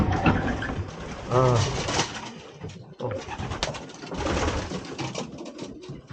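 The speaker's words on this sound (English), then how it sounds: "Oh, you got a lot of birds." Many racing pigeons coo and flutter together in a busy, continuous chorus close by inside a pigeon loft, with a voice speaking briefly among them.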